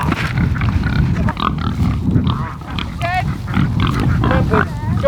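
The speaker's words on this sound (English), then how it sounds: "Come on, pigs. Go. Go eat." Pigs on a backyard homestead grunting and squealing loudly up close, a constant jostling chorus of grunts with higher squeals breaking through, and no talk.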